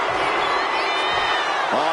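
Arena crowd in the WWE 2K25 wrestling game roars in sustained, dense cheering throughout, a steady broad wash of voices and whoops with a brief sharper impact near the end.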